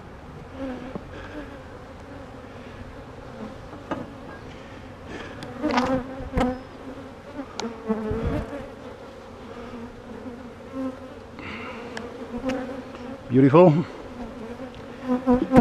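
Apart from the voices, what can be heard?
honeybees buzzing around nuc hive frames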